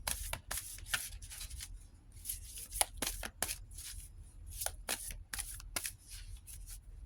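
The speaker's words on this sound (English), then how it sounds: "Give me one more Native Heart Healing Oracle card." Oracle cards being shuffled by hand, a steady run of crisp riffling bursts and soft slides repeating throughout, close and clear with no talking.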